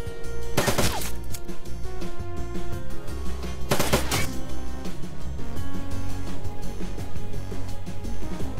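Automated turrets open fire in the tactical video game Shadowrun Dragonfall, two sharp bursts of rapid gunfire standing out over a constant layer of game music and ambience.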